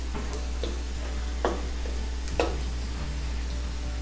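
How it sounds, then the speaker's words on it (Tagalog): Potatoes fry in hot oil in a home kitchen, a steady soft sizzle under a constant low hum, broken by a few sharp pops and light clicks of stirring. "Hayaan lang muna natin na maprito ito."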